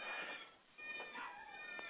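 A cat at a home animal rescue sanctuary gives a few faint meows in quick succession, soft and somewhat distant, with no talking.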